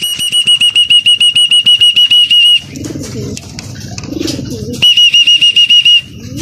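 Racing pigeons in a loft: a close, rhythmic run of high whistling pulses, then a stretch of low cooing and fluttering before the pulsed whistling returns, with no talking.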